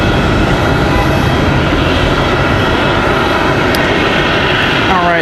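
A United airliner, flight 1117 bound for Denver, departs Raleigh-Durham with a loud, steady jet roar that fills the whole stretch, broad and close, with a brief higher whine near the end.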